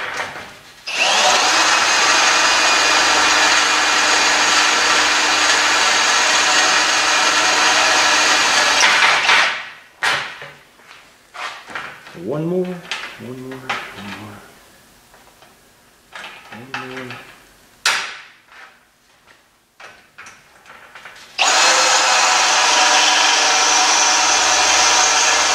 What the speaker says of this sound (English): So now I'm drilling out for the casters.